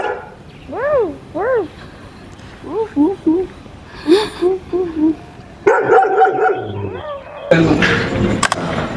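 A dog barks in a burst of loud yelping barks and howl-like calls near the start, then quieter barks follow as the scene shifts to noisier background sound with voices.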